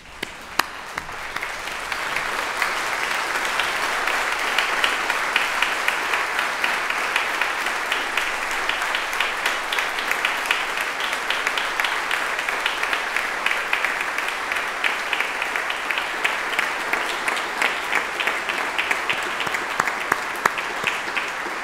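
Sustained applause from the audience for graduates at a University of Manchester social sciences graduation ceremony, a dense, steady clapping that swells in the first seconds and holds for about twenty seconds in a large hall.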